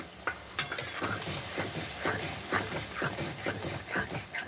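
A chilli and ginger paste fries in a pan for a fish curry, with a soft sizzle under repeated scraping stirs and clinks of a spoon against the pan, all close by.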